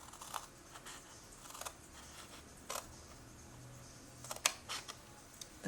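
Scissors cut through card stock for a handmade lever-opening card, giving several short, close crisp snips separated by quiet pauses.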